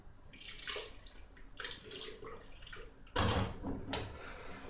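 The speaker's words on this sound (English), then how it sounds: "just add a little bit of water to wash off the blender." Water splashes and runs into a blender jar as it is rinsed out after blending ingredients for white bitter leaf soup, with intermittent close swishing bursts and a louder gush near the end.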